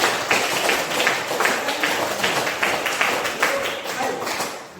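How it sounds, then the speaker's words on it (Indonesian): Children in a classroom clap their hands in a quick, fairly even rhythm of sharp claps, close and moderately loud, lasting the whole stretch. "mari kita tepuk tangan"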